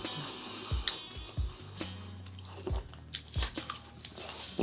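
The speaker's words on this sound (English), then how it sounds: "Ah, a lot of chewing." Chewing of purple amanita mushroom gummies, a candy-like edible, with several soft, wet bites and squishy chews spaced irregularly, close and fairly quiet, with no talking.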